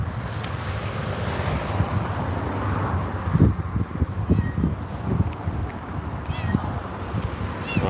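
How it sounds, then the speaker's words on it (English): Small stray cat meowing on a Los Angeles street, several short faint cries amid outdoor traffic noise and wind, with a person talking nearby. "I wish I had food for him. It's a tiny cat."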